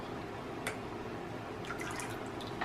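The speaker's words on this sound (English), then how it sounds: "We're going to pour in the lye water and then blend it up" Lye water poured into a soap mixture while making soap, a faint, thin trickle with a few light drips and splashes, quiet and close against a low steady background hum.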